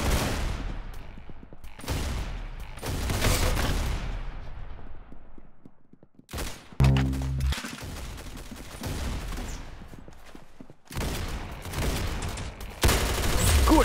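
Rapid bursts of gunfire from the online shooter game Arsenal, loud volleys and automatic fire separated by brief pauses, with no speech over it.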